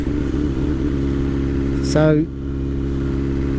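A 2021 BMW S1000R motorcycle engine with a race exhaust idles with a deep, throbbing exhaust note, steady throughout, while a voice speaks a single short word.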